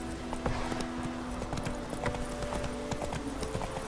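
Horse hooves galloping in the Witcher 3 video game, a quick rhythmic clip-clop of repeated hoof strikes under faint game ambience, close and moderately loud.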